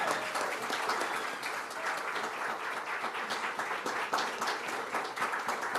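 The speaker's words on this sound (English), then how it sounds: "Will you now join me in a round of applause?" A church congregation applauds to welcome new members during a worship service, a dense, even wash of many hands clapping from a distance that holds steady throughout.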